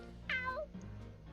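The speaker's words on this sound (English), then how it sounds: "A cat. Does it live here?" A cat meows once in the video game Fire Emblem: Three Hopes, a clear rising-falling cry over a low steady game background hum, with no voices.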